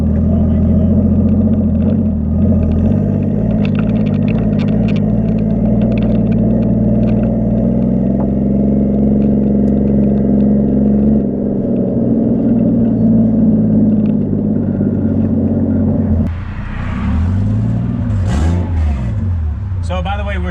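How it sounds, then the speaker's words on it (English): A Toyota 1JZ-engined Nissan S13 idles loud and close on an open downpipe with no exhaust, then revs sharply near the end, its raw exhaust note rising and falling in quick bursts. "we're still no exhaust, it's just open downpipe, so Rev it a little."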